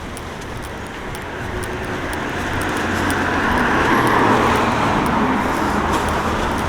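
City centre road traffic in Sheffield: a steady broadband roar of passing cars that swells to a louder rush around the middle as a vehicle goes by close, then eases slightly.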